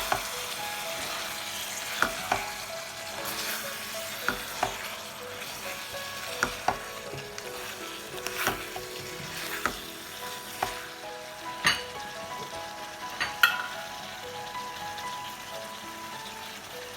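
Fried bacon is added to a creamy mustard chicken and stirred in the pan. It gives a steady, fairly quiet sizzle with sharp clicks of the spoon scraping the pan at irregular moments, and there is no talk.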